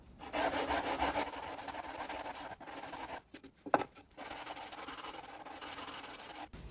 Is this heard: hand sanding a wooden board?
yes